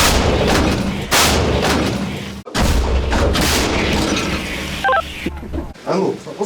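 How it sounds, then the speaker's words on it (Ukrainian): Heavy artillery booms from an M109L 155 mm self-propelled howitzer, loud and close, several blasts in quick sequence with short electronic beeps between them. "Давай, Віталік, гармата! Пострел."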